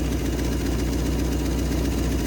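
The V8 engine of a 1970 Mustang, long abandoned, idles close by with a steady, deep, even rumble that holds unchanged throughout, with no voices over it.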